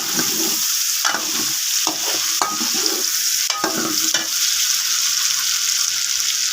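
Onions frying in a pot for chicken nihari, a loud continuous sizzle with a utensil scraping and stirring through them in irregular strokes every second or so.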